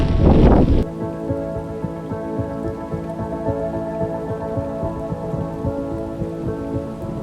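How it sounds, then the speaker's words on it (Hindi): Rain falls steadily around a jungle trek near Aadrai in the hills between Mumbai and Pune, opening with a brief loud burst and then settling into dense pattering drops and drips, with no voices. "हर 5-10 मिनट पे बारिश हो ही जा रही है"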